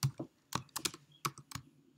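Keystrokes tapped out on a computer keyboard during a JavaScript tutorial, arriving in short irregular clusters of close, crisp clicks with brief pauses in between, no voices.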